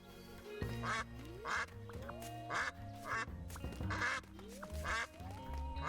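Repeated quacks from a quack button in the video game Duck Detective 2, a run of about six evenly spaced quacks over gentle, bouncy game music, close and clear.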